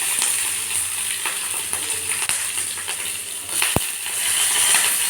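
Cumin seeds and green chillies sizzle and crackle steadily in hot oil in a pan, a loud continuous frying hiss with small pops throughout.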